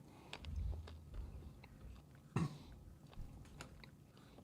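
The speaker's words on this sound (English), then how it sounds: "we can guess who's chewing" Several people munch on dried snacks during a livestream, soft crunchy chewing sounds scattered across the clip with one louder bite partway through, fairly close and with no talking.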